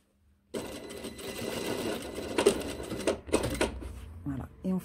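Sewing machine working a backstitch on a blazer, with short bursts of stitching and clicks as the fabric is reversed, close and moderately loud, while a voice talks over part of it.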